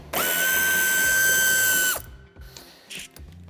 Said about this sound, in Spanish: quitamos el tornillo que sujeta el paragolpes de cabeza de 8